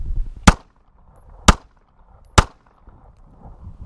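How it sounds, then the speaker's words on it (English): Three sharp handgun shots fired at a target during point-shooting practice on an outdoor range, evenly spaced about a second apart, each a loud crack with a short decay and quiet between. "Shoot him three times."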